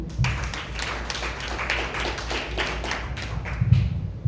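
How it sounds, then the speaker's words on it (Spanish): Church congregation applauding during a sermon, a steady wash of many hands clapping with distinct individual claps standing out, moderately loud and continuous throughout. "Aplauda a Cristo."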